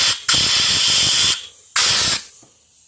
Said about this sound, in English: Let's blow them shavings out of here.